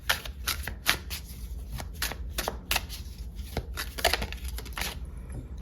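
Oracle cards being shuffled for a tarot reading, a steady run of close, crisp riffling bursts repeating quickly for several seconds with no talk.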